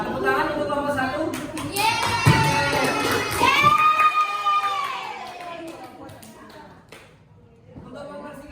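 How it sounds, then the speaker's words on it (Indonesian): Applause for a student group in a classroom, mixed with children's chatter and a voice speaking over it, with a busy crowd texture that fades toward the end. "Tepuk tangan untuk kelompok 1."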